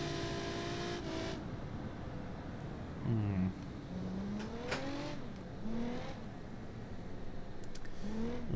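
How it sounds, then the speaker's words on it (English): Car engine revving with front wheel spin in the BeamNG driving game, rising and falling engine tones with tyre squeal, moderately loud and continuous. "it's really struggling. See, that's all front wheel spin."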